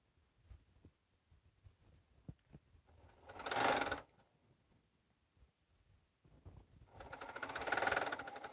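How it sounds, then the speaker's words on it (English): A home sewing machine stitches a long piece of quilting fabric in two short bursts of whirring motor and needle chatter, separated by quiet pauses filled with faint clicks and handling. "Let me put a long piece in. I always have to check on a long piece."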